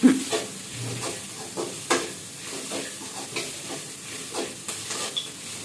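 Spiced egg rice is stirred in a hot pan, a steady low sizzle broken by repeated scraping strokes of the spoon every half second or so, close and moderately loud.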